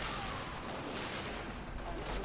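Dense, continuous gunfire from the shooter game Halo Reach, a rapid wash of overlapping shots held at a fairly even level with no clear gaps, fairly distant and muffled.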